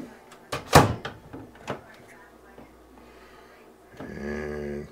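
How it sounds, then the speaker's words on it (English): Door being shut during water line repair work: a sharp close thump with a couple of softer knocks, followed by a low rumbling hum. "Shut the door."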